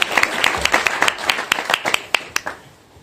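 Small audience clapping at a Maori village welcome in Rotorua, New Zealand, sparse, separate claps forming a short, uneven round close by, thinning out toward the end.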